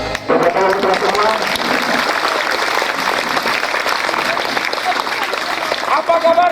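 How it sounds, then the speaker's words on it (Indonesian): Applause from a school audience at a madrasah orientation in Padang, a dense, loud, sustained clapping from a large crowd that runs unbroken for several seconds. "Tepuk tangan untuk semua."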